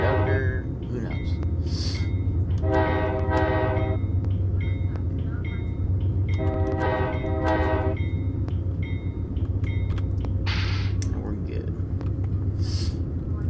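Trains roll past alongside in a train simulator game, with repeated loud horn blasts over a steady low rumble and rail clatter, close by.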